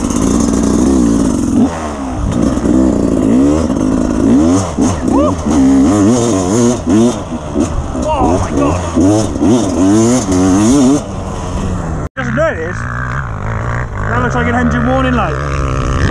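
A Beta dirt bike's two-stroke engine, either a 300 or a 250 on its most aggressive map, revs loud and close, with rising and falling pitch throughout and a voice talking over it.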